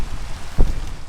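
Steady rain hisses across the whole moment in the Minecraft modpack Enigmatica 2, a soft, even wash of drops with one brief low thump partway through.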